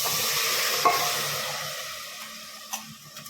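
Cumin and basmati rice fry in a pan of oil already used for pakoras, a steady close sizzle broken by a few sharp scrapes and clacks of stirring.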